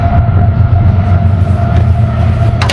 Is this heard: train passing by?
yes